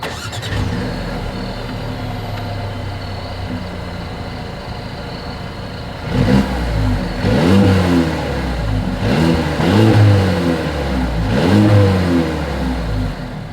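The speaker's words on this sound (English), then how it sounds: "As always, here is that exhaust clip." A 2023 Mercedes-Benz CLA 250 idles with a steady exhaust hum, then several strong revs rise and fall in repeated surges, close and loud throughout, with no talking.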